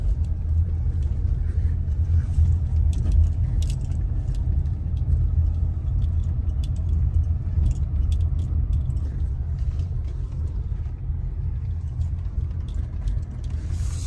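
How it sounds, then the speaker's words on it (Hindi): A car pulling in at a home and being parked, its engine a continuous low rumble with faint clicks and rattles on top, steady and close for the whole stretch with no talk. "अब मैं गाड़ी को पार्क कर देता हूँ।"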